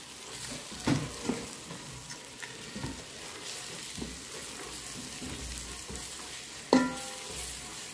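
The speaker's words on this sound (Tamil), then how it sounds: "இப்போ இதெல்லாம் நாங்கள் மிக்ஸ் பண்ணணும்" Spices being stirred together in a bowl for chicken biryani, pepper and turmeric powder, give soft scraping and stirring noises with a couple of sharper knocks, including a clear clink near the end, over a steady low background hiss.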